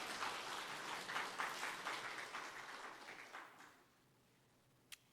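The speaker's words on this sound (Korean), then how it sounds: "우리 오지역 박수 한번 쳐주세요." Church congregation at a Sunday service claps for a group of elderly members, faint distant applause that fades out after about four seconds, followed by a single sharp click.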